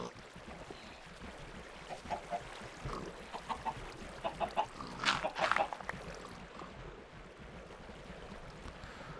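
Chickens clucking in Minecraft, a series of faint, short clucks scattered over quiet background ambience, clustering more densely midway through.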